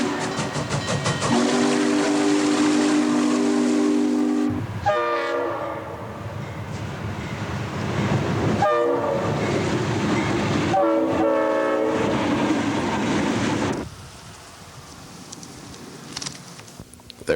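A train rumbles past as its horn and whistle blast in several long loud bursts, with clanking wheels, then fades to quieter rolling noise.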